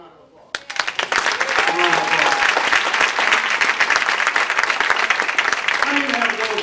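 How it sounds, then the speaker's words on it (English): An audience at a Les Brown motivational business event in Sacramento bursts into loud, sustained applause for Matthew, dense clapping filling the room after a brief quiet start. "Give us. Matthew a round of applause."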